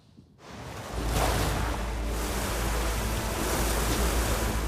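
A flooding river surges through a Lake District town, a loud, dense roar of rushing water that swells in after a brief quiet start and then holds steady and unbroken.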